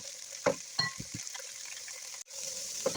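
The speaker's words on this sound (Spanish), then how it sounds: "Vamos a sofreír como por unos 3 a 5 minutos a fuego alto." Vegetables stir-fried in sesame oil over high heat: a steady, close sizzle runs throughout, broken by a few quick spatula knocks and scrapes against the pan.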